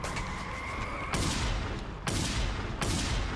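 Rapid bursts of gunfire from the open-world action video game Just Cause 2, loud and close, with several sharp broadband volleys starting abruptly one after another over continuous game noise.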